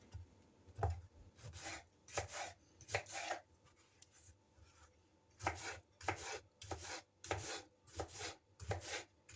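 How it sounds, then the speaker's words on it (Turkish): A knife chops a small peeled zucchini into cubes on a wooden board, quick bursts of sharp close taps separated by short pauses, no voices. "küçük kabağım var soydum ve doğruyorum"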